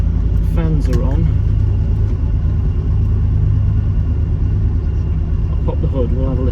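Cooling fans run on a Jensen Healey V8 as a steady, loud whooshing drone over a low engine rumble, close and continuous, with a voice talking briefly over it.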